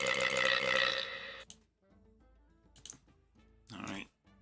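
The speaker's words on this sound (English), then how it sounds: "I started burping, guys." A few short burps break up a person's voice during a Hearthstone game session, the first loud and long, then several quieter ones at uneven gaps.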